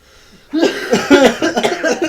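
A burst of harsh coughing after a brief quiet moment, several rough, closely spaced coughs, loud and close to the microphone.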